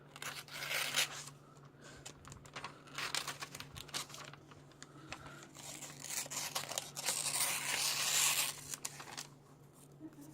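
Scissors snip and paper rustles as a picture is roughly cut out of a magazine page, with quiet close crinkling and short cutting bursts alongside a faint steady background hum.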